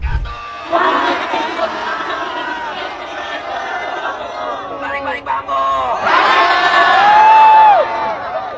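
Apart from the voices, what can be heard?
protest crowd shouting at a demonstration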